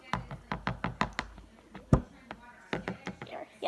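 Slime ingredients stirred together in a bowl, giving a run of sharp, close knocks and taps in an uneven rhythm with a brief pause midway and a louder thump near the middle, plus faint voices in the background.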